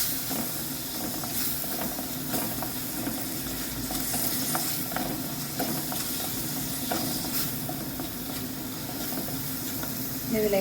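Stirring and sautéing in a pan for a sole fish curry, a continuous loud sizzle and hiss with spatula scrapes throughout, close by and without speech.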